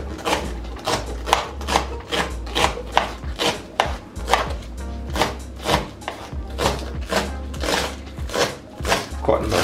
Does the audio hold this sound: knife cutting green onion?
yes